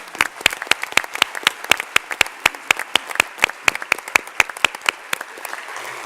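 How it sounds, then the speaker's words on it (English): Separate claps ring out in a steady rhythm at a school board meeting, sharp and evenly spaced, with a faint murmur of applause underneath. "Let's give him a round of applause."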